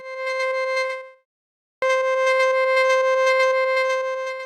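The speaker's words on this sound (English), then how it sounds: "We're using a sine wave here really slow to modulate the pulse width of the first LFO" Synthesizer tone in Ableton whose pulse width is slowly modulated by a sine-wave LFO, a sustained bright harmonic-rich note that stops briefly and then resumes with a sharp attack, steady and loud with no voices.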